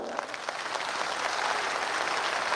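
Applause from a lecture audience at a Samrat Ashok Jayanti gathering, a steady dense patter of many clapping hands that holds evenly across the whole stretch at moderate loudness.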